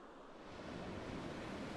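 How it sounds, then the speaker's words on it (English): Ocean waves in The Sims wash in as a steady broadband surf roar that swells slightly, soft and continuous with no voices. "Yeah, those are waves, not a Leviathan."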